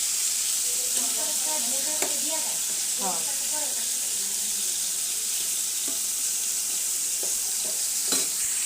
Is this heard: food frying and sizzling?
yes